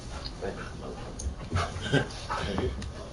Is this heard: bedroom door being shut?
no